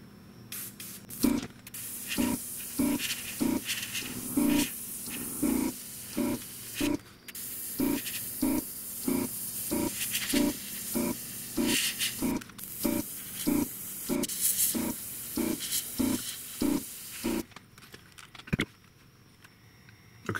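Olive drab paint is sprayed from an airbrush onto the port wing and fuselage of a model aircraft in rapid, even bursts of hissing, about twenty short puffs, then a pause near the end.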